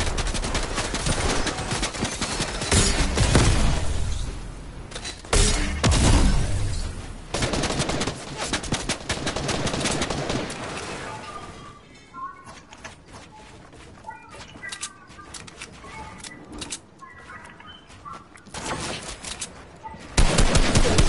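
Gunfire in Fortnite, loud dense bursts of rapid shots in the first half, then sparser scattered shots and quieter game sounds, with a final burst at the end.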